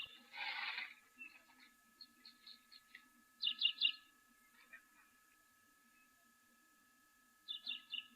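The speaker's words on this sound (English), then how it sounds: "I think that bird chirping, it sounds a little bit like a Cape Sparrow, I think it might be." A Cape Sparrow chirping at an African waterhole, faint scattered high chirps in short bursts separated by quiet gaps, with a steady low hum beneath.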